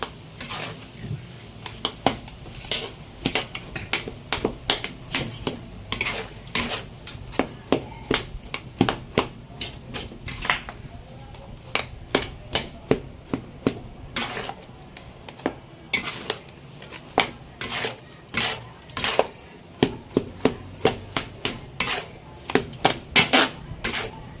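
A pot of chopan (fried rice) being stirred for pares, with frequent metallic clinks and scrapes of utensil against the pot in an irregular, busy rhythm, close and fairly loud throughout.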